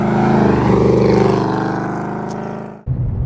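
A 2024 Ford Mustang Dark Horse V8 engine screams at high revs toward its 7,500 RPM redline, holding a steady harmonic howl before cutting off abruptly, followed by a brief low burble.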